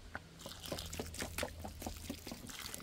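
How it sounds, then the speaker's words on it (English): Water pours into a 5-gallon bucket holding a potted plant to rehydrate its container soil, a quiet continuous splashing and trickling with small irregular drips, close by and without talk. "And add some water."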